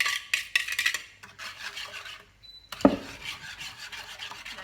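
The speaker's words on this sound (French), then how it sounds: "Je racle bien le plat." A spatula scrapes a dish clean of chocolate flan mixture over a pan of milk in a home kitchen, making close, rasping strokes in short bursts, then a brief knock and more softer scraping.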